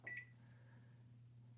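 Kitchen timer being set, giving a short electronic beep at the start over a steady low appliance hum, then another brief tone at the very end, quiet and close.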